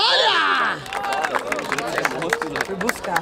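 A crowd at a street rap battle in Barueri, São Paulo, bursts into scattered clapping and cheering after a loud shout, the claps close and uneven amid chatter.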